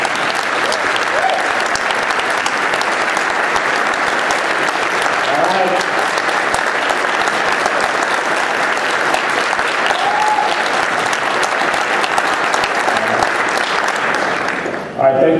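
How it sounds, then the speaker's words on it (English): Sustained, dense applause from a large conference audience at a partner event, steady and loud for about fifteen seconds before stopping abruptly. "So I'd like all the Avaya people to give our partners just a huge round of applause"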